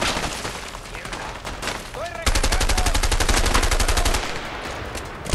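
Gunshots in the A Way Out video game: a sparse shot or two, then a loud rapid burst of automatic fire lasting about two seconds before it stops, with talk in the background.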